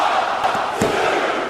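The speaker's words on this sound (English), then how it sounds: "You can almost see the crowd reacting. They are on their feet for this match." A wrestling arena crowd roars in a dense, sustained wash of cheering with no break, loud and enveloping throughout the short moment.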